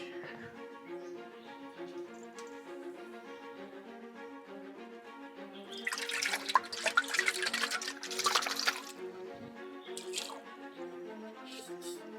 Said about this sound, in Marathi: इथून नॅचरल सोर्स आलेला आहे दगडातून पाण्याचा